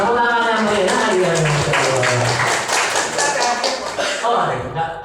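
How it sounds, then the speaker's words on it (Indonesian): An audience at a motivational talk by an Indonesian master coach claps, a dense, loud patter of many hands that runs throughout while people talk over it. "Tepuk tangan yang meriah ya."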